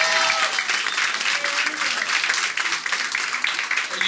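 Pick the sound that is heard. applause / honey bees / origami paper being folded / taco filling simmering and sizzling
applause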